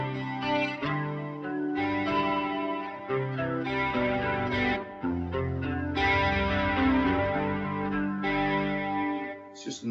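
A 1993 Ibanez S electric guitar played through a Helix STOMP XL with a clean tone in the third pickup position, volume rolled back, ringing chords and notes with a slight chorus shimmer, steady and close with no talk.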